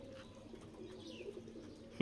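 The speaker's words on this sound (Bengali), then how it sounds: "তো সবগুলো কবুতরই আরাম করে খাইতেছিল।" Pigeons coo softly in low, rolling murmurs while pecking at sun-dried seeds outdoors, faint and steady, ending with a brief louder call.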